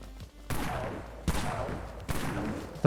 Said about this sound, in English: The Pierce Shot's actually pretty strong.